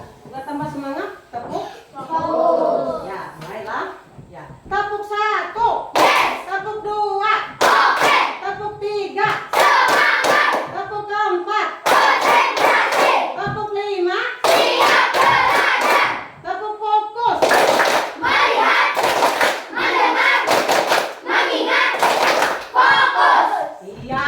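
A group of children in a classroom claps hands in rhythmic patterned bursts, loud and close, with their voices chanting along between the claps.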